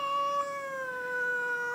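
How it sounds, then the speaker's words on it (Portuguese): A hungry, grumpy female cat gives one long, drawn-out meow. The wavering cry is steady and fairly close, and it carries on for the whole moment with no talking. "Isto é uma gatinha que adora comer, que adora comer e fica rabugenta."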